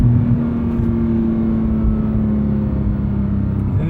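Manual Porsche 991.2 GT3 engine pulling under acceleration, a loud, steady droning hum from inside the cabin with a sustained tone and low rumble throughout; no voices.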